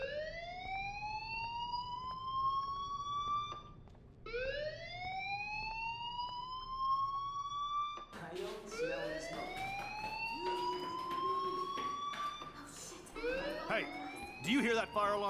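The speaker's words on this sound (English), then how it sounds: "Do you hear that fire alarm?" A fire alarm rings in the video game Life Is Strange, a loud rising electronic whoop that repeats in long swelling cycles. Later, layered sharper tones and clatter join it.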